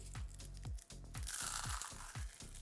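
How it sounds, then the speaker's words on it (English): Cornflakes are crushed into leftover flour, giving repeated close crunching and crinkling bursts in a steady rhythm, with a harsher, louder rustle in the middle. "Just gonna get the cornflakes and we're gonna crush them into the leftover flour."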